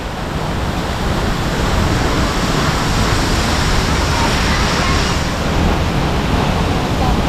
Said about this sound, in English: Hey Juniper, what do you think about the waterfall?